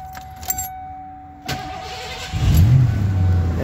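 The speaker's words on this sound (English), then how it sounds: "Engine is running." Engine of a 1985 Ford with EEC-IV CFI fuel injection starting: a few clicks, then a cranking whir that catches into a steady, loud idle.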